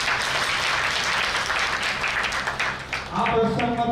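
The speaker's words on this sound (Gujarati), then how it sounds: "જોરદાર તાળીઓ થઈ જાય." An audience at a village stage play applauds with dense, steady clapping throughout, with a voice rising over it near the end.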